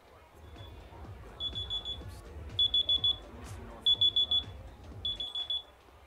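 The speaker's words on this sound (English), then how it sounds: "My alarm on my phone went off." A phone alarm beeps in repeated short bursts of four or five high electronic tones, separated by brief pauses, over a low background murmur of room or game noise.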